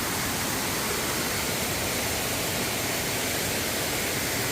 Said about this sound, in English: This should be the last waterfall of the day